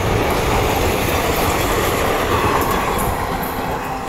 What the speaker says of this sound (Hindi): प्रिया, तेरा ट्रेन छूट गया।